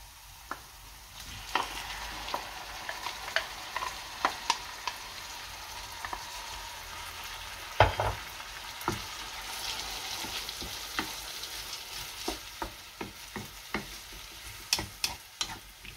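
Onions, chilies, tomato and parsley cook in a pan for a Turkish breakfast, a steady close sizzle broken by repeated scraping and clacking stirring strokes, with no voices.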